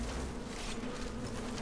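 Steady, fairly loud insect-swarm drone from a Skyrim spriggan, a continuous buzzing hum with no voices.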